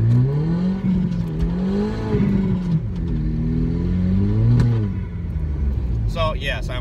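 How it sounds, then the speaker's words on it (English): A first-generation Audi TT Quattro MK1 drives along, its engine giving a steady, close droning hum and rumble throughout, with a voice talking over it nearly the whole time and a brief lighter rattle near the end. "thanks for driving with us in the Audi TT MK1"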